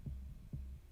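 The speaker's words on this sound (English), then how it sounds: "we have that sub bass to give it that stomach that dance tracks need" A very low sub bass for a dance track, high-cut, thumps twice in a slow, soft pulse, deep and alone.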